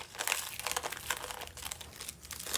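A small plastic treat bag being worked open by hand, giving close, continuous crinkling and rustling with no talk.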